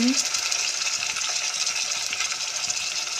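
A ladle stirs browned food frying in oil, with a steady, dense sizzle close by and light scraping and clinks running through it.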